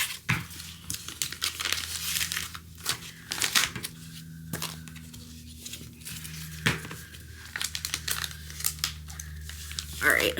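Plastic sticker packaging crinkles and rustles in repeated handling bursts, close and fairly soft, with a steady low hum underneath and talk nearby.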